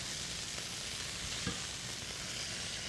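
Thin pieces of beef sear in a hot pan for beef and broccoli, giving a steady, even sizzle with faint stirring scrapes throughout and no talking.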